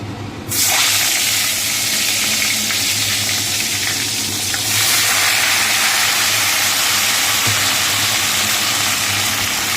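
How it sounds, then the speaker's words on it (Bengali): Flat beans hit hot oil already tempered with nigella seeds and burst into a loud, close sizzle that swells again partway through, then keeps a constant crackling hiss. "কালো জিরে ফোড়ন দিয়ে এবার এই সিমটাকে এর মধ্যে দিয়ে দেবো"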